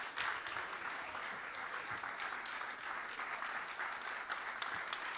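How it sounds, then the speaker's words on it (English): An audience at a sports referee foundation event applauds continuously, a steady wash of many hands clapping, fairly distant and even throughout. "Big round of applause, everybody."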